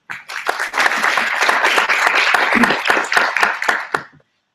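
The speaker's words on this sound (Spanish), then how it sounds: "vos pido un aplauso para eles" Audience applause at a film criticism event on the audiovisual essay, a dense burst of clapping from a room full of people that fades out after about four seconds.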